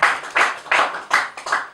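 Rhythmic clapping from a debate audience cheering the debaters, five distinct loud bursts of hands striking in a regular beat, close and strong with no voices over it.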